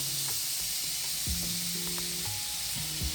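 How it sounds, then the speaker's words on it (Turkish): Onions sizzle in oil in a pan with a steady, close hiss of frying, quiet and even throughout with no talk. "Tavamıza bir miktar yağ koyuyoruz. Şimdi bunun içine bolca soğan katıyoruz."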